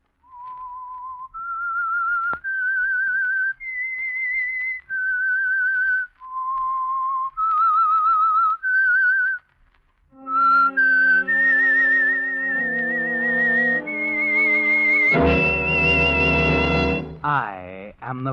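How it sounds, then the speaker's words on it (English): A lone human whistler carries the slow, eerie theme melody of the old radio mystery series The Whistler, sustained clear tones stepping up and down, then joined by swelling orchestral music. "That whistle is your signal for the Signal Oil Program,"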